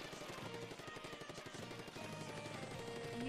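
Rapid-fire shots from a quick-firing gun in the Splatoon video game rattle in dense bursts over the game's background music, loud and continuous throughout.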